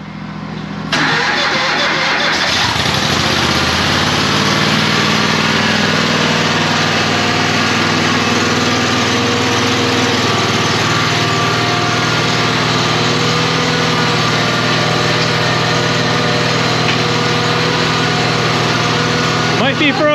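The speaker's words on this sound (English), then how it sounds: "To a 27 horsepower cold start," A 27 horsepower engine cold-starts after a brief crank, catching and settling into a loud, steady, buzzy idle that runs without break for the rest of the clip.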